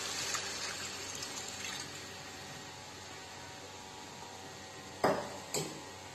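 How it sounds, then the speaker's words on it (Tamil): Water pours steadily into a sambar pot of toor dal with chayote and pumpkin, seasoned with Sakthi sambar powder. It makes a continuous broad hiss and splash, with two short louder clanks or splashes near the end and no talking. "தேவையான அளவு தண்ணி ஊத்திக்கலாம்"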